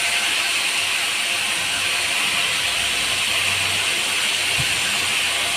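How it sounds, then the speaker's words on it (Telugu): Tempering seeds, onions and green chillies fry on a stovetop, giving a loud, steady, broadband hiss that runs unbroken for the whole stretch with no voices. "పొయ్యి మీద తాలింపు గింజలు, ఉల్లిపాయలు, పచ్చిమిర్చి వేపుతుంది."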